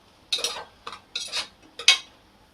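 Biryani masala being stirred in oil for a prawn dum biryani, four close bursts of scraping and clinking of a spoon against the pot, separated by short pauses.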